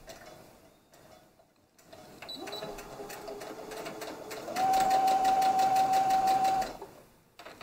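A sewing machine stitches a dress seam, starting with short slow runs and then settling into a fast, steady whirring run before stopping, heard close and alone.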